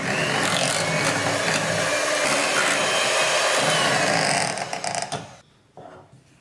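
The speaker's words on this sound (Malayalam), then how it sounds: "നന്നായിട്ട് സോഫ്റ്റ് ആയിട്ട് നല്ല ക്രീമി ആയിട്ട് വരണ വരെ ബീറ്റ് ചെയ്തെടുക്കുക." An electric mixer whirs loudly and steadily, beating butter until soft and creamy for butter cookies, then switches off near the end with a few clicks and rattles.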